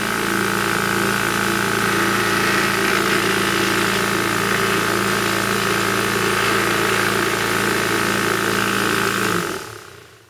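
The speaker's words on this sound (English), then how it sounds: "You can see the parts tumbling around in a, you know, circular motion towards the inside." An Eastwood tumbler polishes parts in walnut shell media with a steady, droning mechanical hum and a faint churning rattle. It runs close and loud without pause, then winds down and stops at the very end.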